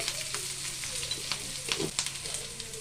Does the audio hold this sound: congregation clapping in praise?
no